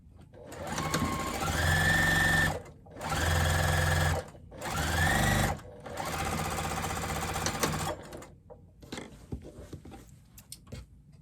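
A sewing machine stitches fabric for a microwaveable bowl cozy in three loud, steady runs with brief pauses between them, followed by quieter handling noises.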